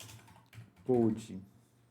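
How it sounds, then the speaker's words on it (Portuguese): Computer keyboard typing, a short burst of keystrokes at close range during spreadsheet work, mixed with someone speaking. "Porque aqui nós vamos digitar o seguinte, geocode"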